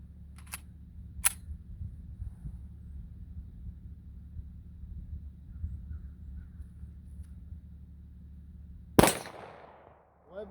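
Three 9mm MagTech rounds fired over a chronograph outdoors: two sharp reports close together early on, then a long pause and one louder, nearer crack with a short echoing decay, over a steady low rumble.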